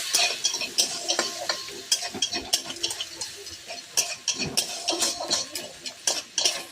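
Spice masala for a rui fish curry with potatoes and Malabar spinach is stirred and fried in a pan after a splash of water, giving quick clicking spatula taps and scrapes over a low simmering sizzle.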